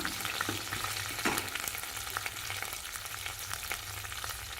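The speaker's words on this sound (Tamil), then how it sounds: "காரத்துக்கு வரமிளகாய் சேர்த்துக்கிறேங்க." Dried red chillies fry in a pan for a chutney served with idli and dosa, giving a steady close sizzle with faint stirring scrapes and no voices.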